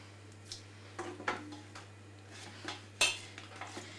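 Kitchen clatter as a chopping board and saucepan are handled while grated potato is squeezed out for cepelinai: a few scattered knocks and scrapes of wood and metal, one sharper clank, close by, with a low steady hum beneath.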